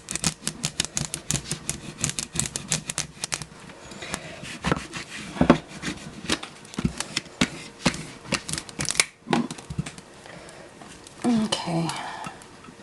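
A soft tool rubs hard across a vinyl stencil stuck onto a glass dish for etching, giving a rapid, scratchy, rhythmic scraping close by, broken by short pauses.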